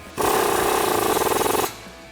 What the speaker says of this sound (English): And then we're gonna grab our 24mm socket and tighten that down.